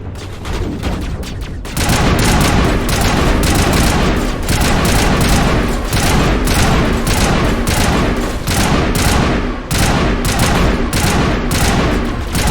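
Grenade blasts and sustained gunfire in a video game, a loud, dense barrage of rapid shots and booming bursts that starts abruptly after a quieter opening and rages on almost without pause.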